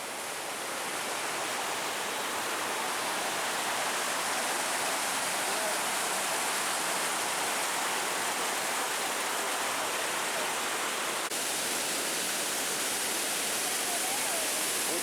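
Waterfall of Edessa pouring steadily, a dense, even roar of falling water that stays constant from start to finish with no voices.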